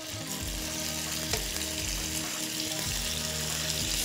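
Chicken thigh strips sear in sesame oil in a hot wok, a steady loud sizzle with crackling spits running throughout, no voices.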